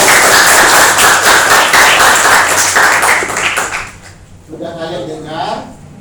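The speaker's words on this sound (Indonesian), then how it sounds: "Oke, berikan tepuk tangan." A school class claps for a few seconds, dense and close, then the clapping breaks off and a voice speaks over the fading room noise.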